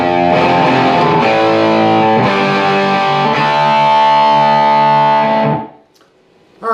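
A loud, distorted electric guitar plays the closing measure of a chorus riff, with sustained ringing chords that cut off sharply near the end, followed by a short quiet gap.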